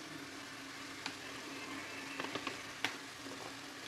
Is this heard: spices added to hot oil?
yes